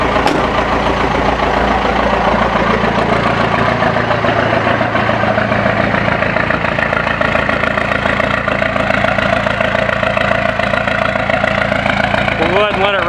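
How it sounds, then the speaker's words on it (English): A 1980 Chevy K10 pickup with a 4BT Cummins diesel idles steadily after a snowy cold start, a loud, close, continuous low rumble that holds unchanged throughout. "We'll go ahead and let it run for a couple minutes."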